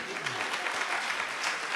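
A brief burst of audience clapping, steady and moderately loud, with a voice faintly present beneath it.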